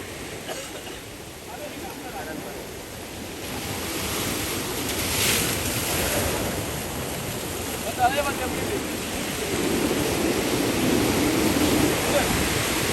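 Sea waves surge and wash onto the shore at Kalmunai on Sri Lanka's east coast, a steady broad roar with wind buffeting the microphone, and a voice speaks briefly over it.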